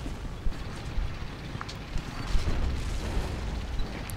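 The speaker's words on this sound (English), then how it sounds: "And he's shelling me." Artillery shelling in the video game Men of War, a continuous rumbling din of distant booms and bursts, with occasional sharper impacts rising above the steady roar.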